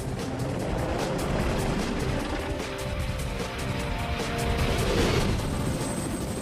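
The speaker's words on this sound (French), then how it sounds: "Le EH-101 traverse le ciel comme un oiseau-mouche." An EH-101 helicopter flies with a dense, steady rotor and turbine roar, rhythmic blade chop pulsing through a broad rumble, staying loud and constant with no voices.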